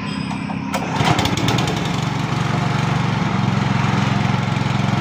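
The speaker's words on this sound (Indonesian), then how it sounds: "mesin sudah hidup bagus, mantap, sangat mantap sekali" A Honda GX200 engine powering a wet coffee huller runs loud and close, a steady rapid chugging drone after a brief revving start, with no talk over it.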